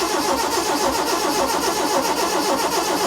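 A Proton Wira that has been abandoned for 14 years cranks over at the ignition. The engine churns loud and steady with a continuous rhythmic whirring close by, and no voices are heard.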